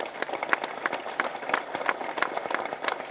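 A crowd at a Tamil film audio launch event claps in a fairly regular rhythm, with sharp, repeated hand claps standing out over a softer murmur of clapping.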